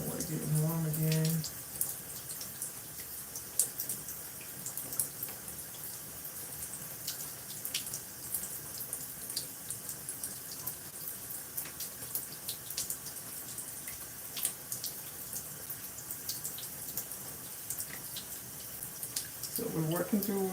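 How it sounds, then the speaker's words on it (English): Tap water runs steadily into a sink during a live hair-washing session, a continuous hiss that persists for the full length with a person talking briefly at the start and end. "There's my water getting warm again."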